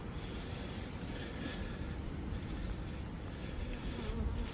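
Honey bees buzz in a dense, continuous drone at an open beehive during a spring hive inspection, close and fairly loud, with no voices over it.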